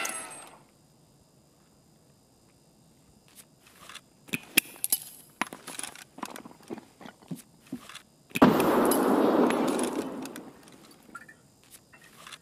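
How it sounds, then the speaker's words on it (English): Metallic clicks and clacks of an M1A rifle being reloaded in Escape From Tarkov, a scattered run of sharp mechanical taps followed by a louder rattling burst, fairly close and with no talk. "I'm reloading"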